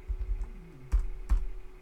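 A few keystrokes on a computer keyboard as a command is typed into a Linux terminal, with two sharper clicks standing out over a low background hum, close and fairly quiet, no talking.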